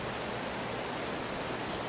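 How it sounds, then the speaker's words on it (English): Rain falls on a Polish farm in Farming Simulator 22 on PS5, a dense, even hiss of downpour that runs unbroken, with no talking. "But as it turns out, it's raining early."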